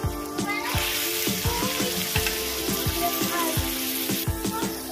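Chicken pieces frying in a hot pan for a mango and chili chicken dish, a steady loud sizzle with repeated clinks of a spatula stirring, no voices.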